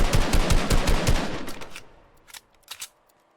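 Rapid automatic gunfire in the video game Fortnite rattles off in a fast burst for over a second, then fades into a quieter lull broken by two short, distant shot clusters.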